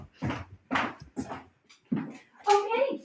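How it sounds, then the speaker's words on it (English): A collie whimpering and whining in short bursts, several separate cries with a higher, more tonal whine at the end, close by and with no talk. "that was my collie telling me, not that Timmy was down in the well, but that Ever was stuck in the laundry room"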